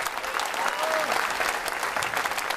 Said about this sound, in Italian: facciamolo un bel applauso